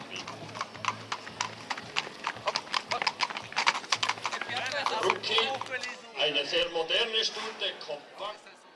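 Horses clip-clopping through the horse-breeding town of Saignelégier in the Jura, with quick, close hoofbeats on hard ground followed by a whinny or animal calls near the end.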